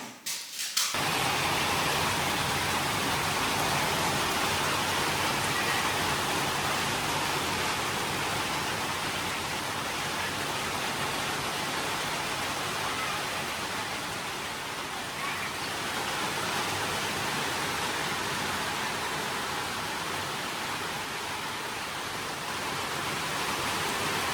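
Heavy rain pours down steadily, a dense, constant roar of water with no voices, continuing unbroken throughout.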